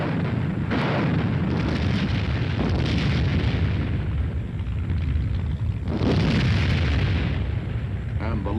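Cold War-era US anti-aircraft guns fire in heavy, booming bursts over a continuous rumbling roar, with a voice speaking through the din.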